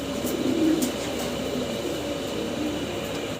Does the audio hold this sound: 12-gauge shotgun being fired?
no